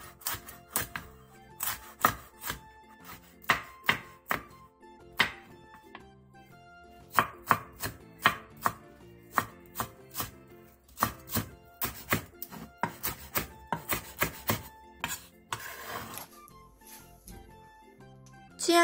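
A knife chops onion, chili peppers and green onion rapidly on a cutting board, sharp irregular thuds in quick bursts, close and loud with no talking.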